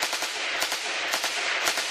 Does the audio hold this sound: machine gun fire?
yes